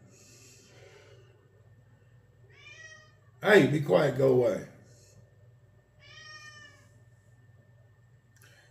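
An old cat lets out a few drawn-out meows, fairly faint and spaced apart, with someone speaking sharply between them over a steady low hum indoors.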